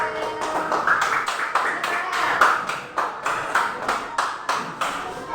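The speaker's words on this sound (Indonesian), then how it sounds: "Tepuk tangan dulu untuk Farel." Brisk rhythmic hand clapping from a small class of pupils, steady and fairly close, with a faint voice murmuring underneath.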